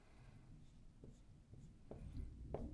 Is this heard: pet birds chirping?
no